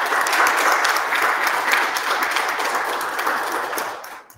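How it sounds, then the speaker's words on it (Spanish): A loud, dense round of applause from a seminar audience closing a panel session, sustained and even for about four seconds before tapering off. "Un fuerte aplauso, por favor."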